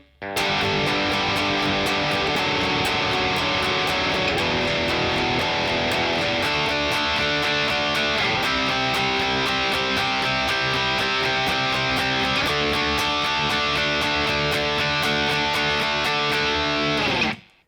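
An electric guitar strums thick, driven power chords for a song's intro break, moving between C5 and D5 in an even, steady rhythm, loud and close for about sixteen seconds with no talking.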